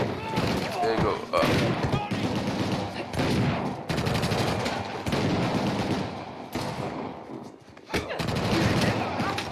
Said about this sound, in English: now they're all gonna start shooting at us